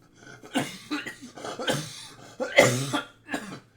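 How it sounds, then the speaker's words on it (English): A person coughs repeatedly in a run of short, rough bursts with small pauses, one louder hacking fit in the middle, close and clear with no speech. "I start coughing again."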